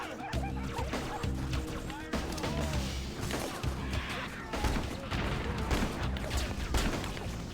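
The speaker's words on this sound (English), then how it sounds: "That's shooting." Gunfire in the Halo video game: scattered bursts and sharp shots crackle amid busy battle noise and chatter-like sounds, fairly faint and dense throughout.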